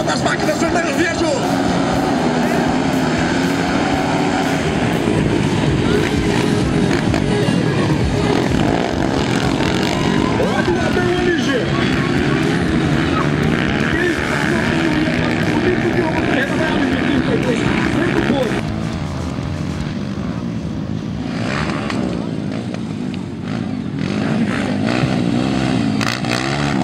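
Red motocross motorcycles in an MX 230 class race at a state championship round in São Gabriel do Oeste roar and accelerate continuously, with a steady dense engine drone running under fast commentator talk throughout.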